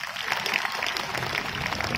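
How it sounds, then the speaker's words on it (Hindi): Audience clapping at a Hindi stand-up comedy show: steady, dense applause that fills the whole stretch at a moderate level, with no pause in the rhythm of many hands. "अच्छा लग रहा है आप लोग ताली बजाते।"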